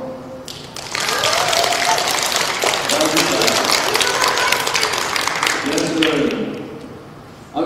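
Audience applause swells quickly and holds steady for several seconds, dense clapping from a crowd with some voices mixed in, then fades.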